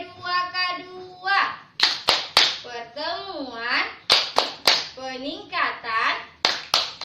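A group of women at a family-capability training session clap sharply in a counted rhythmic pattern, loud isolated claps breaking up a sung chant of group voices.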